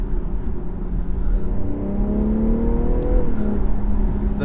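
A BMW M340i Touring with the B58 engine pulls hard under acceleration, a steady close engine drone rising in pitch across the run, heard from inside the car with no talking.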